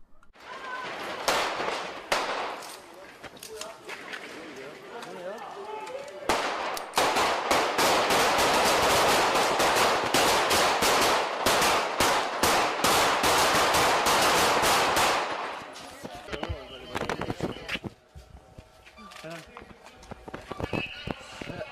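Rapid gunfire during an assassination rings out in a dense, sustained burst of overlapping shots lasting several seconds, preceded and followed by scattered sharp reports, commotion and voices.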